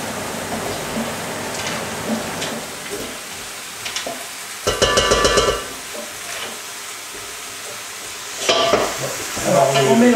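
Peeled eggplant and vegetables being stirred in a saucepan while cooking for couscous, a steady hiss of frying with scraping utensil strokes and a couple of louder bursts of clatter.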